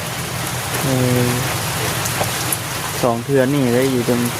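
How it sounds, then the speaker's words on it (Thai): Rain pours steadily on a rural house in Thailand, a continuous wash of drops heard indoors, while someone talks over it. "ฝนตกแล้วพี่น้องเลยเนาะตกเทือเนี่ยอยู่ในบ้านนี่"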